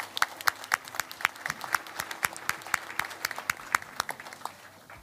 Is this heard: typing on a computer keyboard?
no